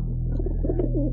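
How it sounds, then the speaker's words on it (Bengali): Pigeons coo softly while pecking at wheat grains, a close, steady murmur of low calls over a constant low hum. "পায়রাগুলো খুশি মনে খাচ্ছে গমের দানা।"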